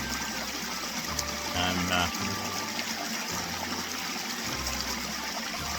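A stream runs under a bridge in Scotland with a steady, close trickling and rushing of water, and someone speaks briefly over the flow.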